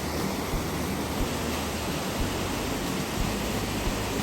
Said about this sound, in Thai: ทางโน้นน้ำตกค่ะทุกคนค่ะ น้ำตก น้ำตกเอราวัน